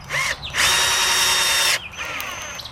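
Power drill with a Phillips bit driving 2-inch galvanized outdoor screws into wood on a rabbit hutch, a brief whine, then one sustained loud high-pitched spin of about a second, then a quieter trailing whir as it eases off.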